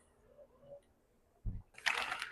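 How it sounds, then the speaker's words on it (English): A spoonful of pasta water is poured into a pan of creamy chicken pasta sauce, giving a short, close splash followed by a soft sizzling hiss in a quiet kitchen. "We get a spoonful of pasta water."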